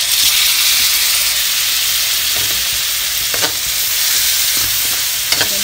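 Tomato and onion sauté in a hot pan while being stirred, a loud steady sizzle with occasional scraping clicks from the utensil, alone without talk.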